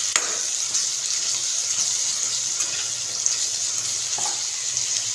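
Onions for egg bhurji sizzle and fry in a hot pan, a steady bright crackle with occasional stirring clinks, close and continuous with no talking.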